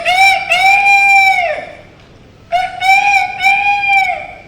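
A voice imitates a rooster crowing, two long drawn-out cock-a-doodle-doo calls separated by a short pause, loud and close with no other sound.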